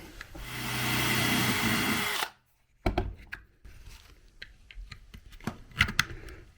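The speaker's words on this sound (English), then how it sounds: "You have to be careful when drilling holes out like this" A power drill whines steadily for about two seconds while enlarging a hole, then stops, followed by scattered clicks, taps and handling noises.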